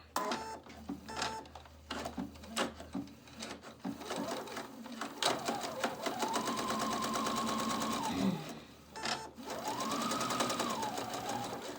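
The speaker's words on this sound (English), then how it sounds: "I'm going to do the machine sewing, finishing it that way" A sewing machine stitches a shirt collar in a Pendleton '49er-style shirt, its needle running in rapid, even bursts that rise into longer sustained runs with a brief pause between them, close and clear.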